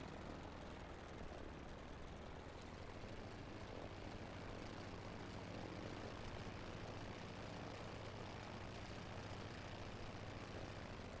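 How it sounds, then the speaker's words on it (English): A light tailwheel airplane back-taxis down a runway in Ireland, its propeller engine droning steadily and fairly loud throughout, with no voices heard. "let's back taxi down to the other end of the runway"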